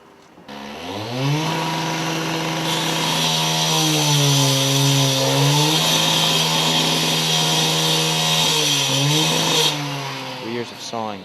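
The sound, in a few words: construction crew sawing under a window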